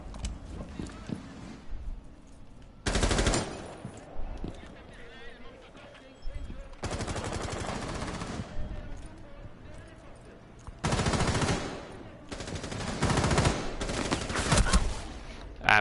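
Loud sustained bursts of automatic gunfire erupt in a video game scrim match, coming in several long volleys with quieter gaps between, while a commentator talks throughout.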